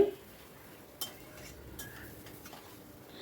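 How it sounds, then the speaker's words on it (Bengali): Potatoes and spices being stirred continuously in a kadai, giving faint scraping and a few soft metallic clinks of a spoon against the pan, low and steady throughout. "অনবরত কিন্তু নাড়তে হবে"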